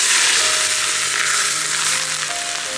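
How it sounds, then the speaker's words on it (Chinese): Hot oil poured over minced garlic, chopped scallion, chili and salt gives a loud, steady, close sizzle that holds without a break, with no talk over it. "用热油泼一下"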